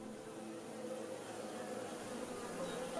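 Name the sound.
honeybees buzzing at the hive near sunflowers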